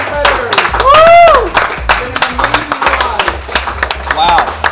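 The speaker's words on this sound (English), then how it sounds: "Give another round of applause for Fish." Audience at a Smash tournament clapping and cheering, with a whooping voice rising over steady applause for several seconds and loud throughout.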